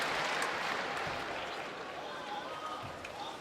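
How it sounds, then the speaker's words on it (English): Crowd applauding the players at a table tennis quarterfinal between Ma Long and Ma Lin, a steady wash of clapping in a large arena, fairly faint and distant throughout with no clear talk over it. "the crowd now applauding the players"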